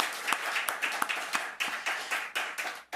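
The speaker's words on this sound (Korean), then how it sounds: "우리 박수 한번 드리겠습니다" A church congregation applauds during a Sunday worship sermon, a steady wash of many hands clapping with a few sharper individual claps standing out, continuous for a few seconds.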